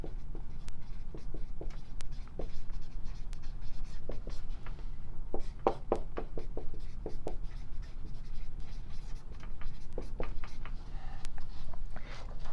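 Someone writes chemistry terminology during a lecture on reaction paths and mechanisms: quiet, scratchy strokes and taps that come in irregular clusters over a soft background hum, with no talking.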